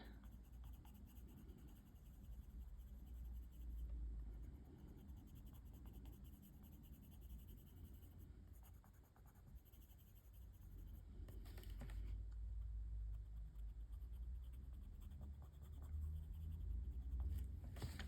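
Coloured pencil scratches steadily across paper in a colouring book with floral illustrations, a soft close-up rustle of small back-and-forth strokes, very quiet and continuous.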